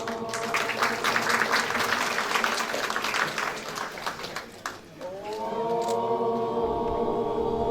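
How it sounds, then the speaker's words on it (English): An outdoor crowd at a Diwali lights switch-on event in Derby applauding for about five seconds, then fading out, giving way to a sustained musical tone as a voice speaks. "A round of applause for them, please."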